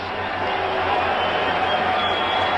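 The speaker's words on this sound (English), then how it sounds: "chorus the crowd, yelling, screaming, mixed boos" Dense, steady roar of a boxing arena crowd yelling, screaming and booing, a continuous wash of many voices with no single voice standing out.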